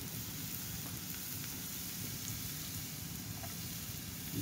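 Chopped onion and garlic sautéing together in a pan for a salmon and shrimp minestrone, a steady close sizzle and crackle with no talking.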